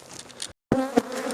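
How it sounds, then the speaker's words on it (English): Bees buzz loudly and close around a beehive in December, a dense droning hum broken by a brief silent gap before resuming. "I just walked back over there and he is covered in bees"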